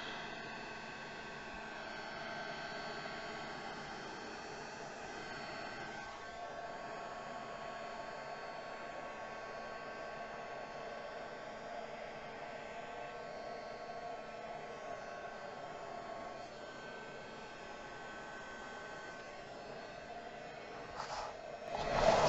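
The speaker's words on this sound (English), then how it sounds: "make sure you don't keep your heat gun in one spot" A heat gun blows hot air over a stretched plastic grocery bag to shrink it, giving a steady, even rushing hiss that holds for over twenty seconds and swells slightly at the very end.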